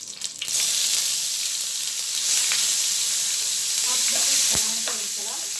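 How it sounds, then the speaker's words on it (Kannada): Marinated prawns dropped into hot ghee with curry leaves sizzle loudly and steadily in the pan, a close, continuous frying hiss with a few clinks of a utensil toward the end. "ಇವಾಗ ನಾವೇನು ಮ್ಯಾರಿನೇಟ್ ಮಾಡಿ ಇಟ್ಕೊಂಡಿರುವ ಪ್ರಾನ್ಸ್ನ ಇದಕ್ಕೆ ಹಾಕೊಳ್ಳೋಣ"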